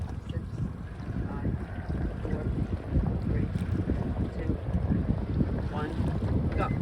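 Light breeze buffeting the microphone in gusty low rumbles during a sailing race clinic, with faint water and boat sounds and a few voices in the background.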